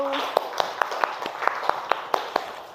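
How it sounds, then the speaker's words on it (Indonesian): Light, rhythmic clapping for a student group in a high school classroom: about nine evenly spaced, crisp claps from a small number of people over a quiet room. "Tepuk tangan dulu untuk kelompok 1."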